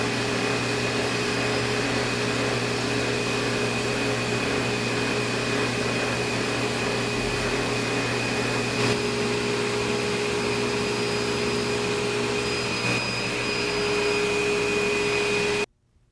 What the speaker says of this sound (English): I'll put it on the buffing wheel and it'll look great